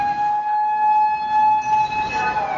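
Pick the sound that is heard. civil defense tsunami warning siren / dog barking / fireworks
civil defense tsunami warning siren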